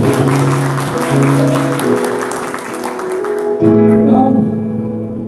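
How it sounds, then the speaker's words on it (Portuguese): Congregation applauding in church, steady clapping running under organ or keyboard music with sustained tones, a shift in the music partway through. "Aplauda, pecador."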